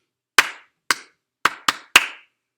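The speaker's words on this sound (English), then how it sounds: "I'm going to count to 4 while I clap that rhythm." Hands clapping a short rhythm of five sharp, close claps, with an uneven spacing where the third and fourth claps come quickly together, alone with no talk.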